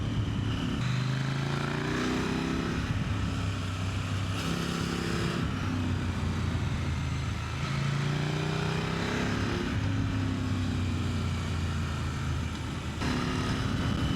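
A KTM 890 Supermoto motorcycle ridden hard through short, tight curves on rough, broken tarmac, its engine droning loud and close with repeated rises and drops in revs as the rider shifts and brakes.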